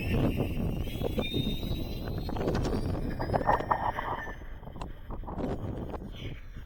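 Gusty wind at a radio-controlled plane flying field, blowing hard and roaring across the microphone with uneven bursts and buffeting, the rush swelling and easing over several seconds.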